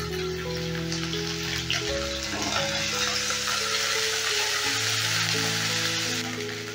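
Green chili dropped into hot oil in a pan, frying with a loud, steady sizzle and crackle that holds throughout, close and alone without talk.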